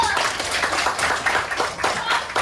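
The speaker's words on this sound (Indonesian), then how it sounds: "Oke, kasih tepuk tangan dulu." A class of primary school pupils clapping together as a group, a steady loud patter of many hands with voices mixed in underneath.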